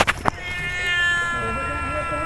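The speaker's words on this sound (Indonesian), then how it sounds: "Dan tanpa sadar kita disambut oleh kucing tuh." A cat meows at the edge of a forest in dim early light. A long, drawn-out, wavering meow follows a couple of short sharp sounds at the start.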